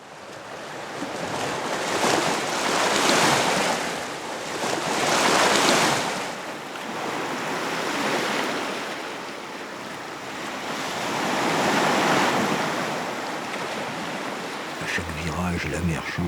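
Sea surf and wind on a coast where the sea meets mountains, waves swelling and breaking in slow repeated surges several seconds apart, steady wind noise between them, heard up close without voices.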